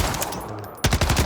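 The DG-58 LSW machine gun in Warzone fires a short, rapid, loud burst of shots after a brief quieter stretch.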